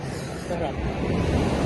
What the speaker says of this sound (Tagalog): Ang lalaki na alon.